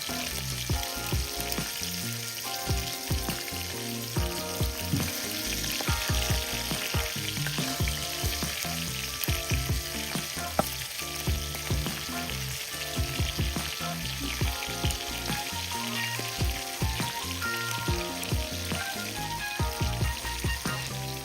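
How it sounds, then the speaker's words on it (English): Shrimp sizzle steadily in a hot pan for Escovitch shrimp, a dense, continuous crackle and spatter with occasional stirring knocks, close up and without talk. "Tell a shrimp don't take long to fry, okay?"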